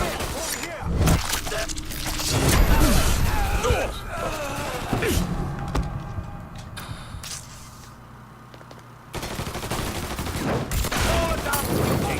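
Bursts of gunfire from the Mafia 3 video game crackle in rapid volleys, loud and near, over shouting voices and game sounds, easing off briefly before firing picks up again.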